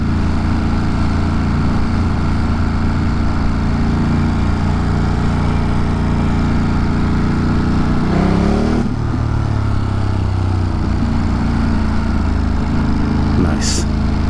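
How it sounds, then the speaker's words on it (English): A motorcycle engine running on city streets in New York, a constant loud drone with a shift in pitch partway through as it revs and changes speed, alone without talk. "This freaking bike, man, makes me want to go brr, brr, brap, brap."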